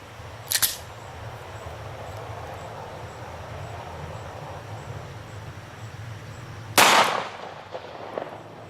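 A Kel-Tec handgun fires RIP ammunition into a flesh-and-bone target, giving one loud sharp report late in the clip after a smaller crack near the start, against a quiet steady background.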